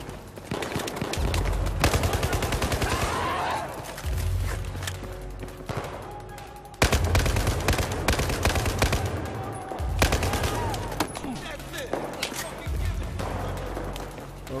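Heavy gunfire in Battlefield 4, with loud, continuous automatic bursts and scattered shots close by and all around, nearly unbroken for the whole stretch, with some voices mixed underneath.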